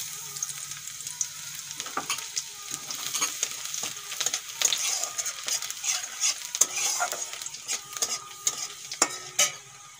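Chopped garlic sizzling in hot oil as a base for meat, with a spoon or spatula stirring and scraping the pan in irregular clicks and bursts over a soft continuous fry.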